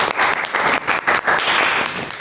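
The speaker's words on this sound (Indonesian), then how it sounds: "tepuk tangan." Classroom applause breaks out after a student's presentation during a teaching-practice lesson, a steady burst of many hands clapping at close range for a couple of seconds with no voices over it.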